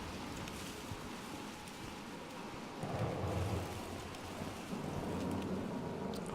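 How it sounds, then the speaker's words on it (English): Thunderstorm ambience in the horror video game Outlast: steady rain hisses at low level, then a deep rumble of thunder swells and rolls on under the rain. "Of course, storm."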